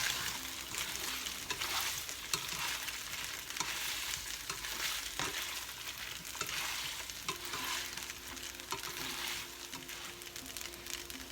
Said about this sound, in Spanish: Y aquí ya freímos a nuestro gusto.